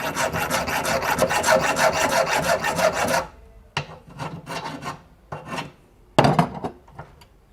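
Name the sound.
filing a small metal part with a file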